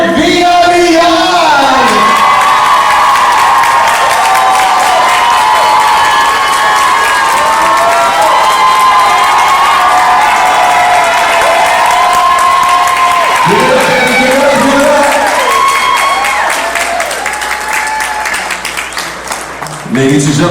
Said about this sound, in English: make some noise, big round of applause for Mr. Pedro Lira and Mr. Eric Villarreal